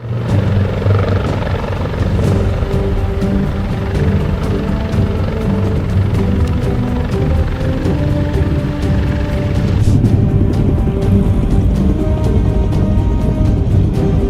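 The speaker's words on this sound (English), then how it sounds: "a medical helicopter appeared and landed right in the middle of it" A medical helicopter landing on a closed highway, its rotor and turbine roar loud and continuous, a steady thudding drone that swells slightly near the end with no voices.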